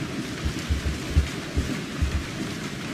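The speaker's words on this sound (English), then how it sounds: "Now it's raining." Rain hisses steadily in the video game Resident Evil 7 while low rumbles of thunder roll through in a series of soft, deep thumps, with no talking.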